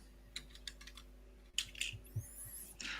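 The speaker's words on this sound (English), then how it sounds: "I'm clicking the merge button." A few light computer mouse clicks and taps on a desk while merging a pull request, sparse and quiet at first, then a cluster of sharper clicks and faint rustling near the end.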